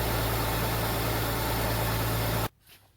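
A Rover 75 with 136,000 km idles steadily and loud up close, its engine hum carrying a suspected idler pulley bearing rattle for about two and a half seconds before the sound cuts abruptly to near silence.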